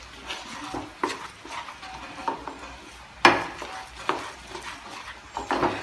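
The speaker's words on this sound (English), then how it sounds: "And then stir it nicely so that the jaggery gets melt." Melting jaggery stirred in a pan for a spiced semolina sweet, with a spoon scraping and clinking against the metal in irregular strokes, one louder knock midway, close up with no voices.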